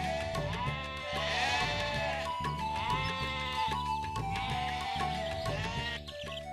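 Goats bleating repeatedly on a farm over a steady, harmonic background, with several drawn-out cries in a row, fairly loud and close.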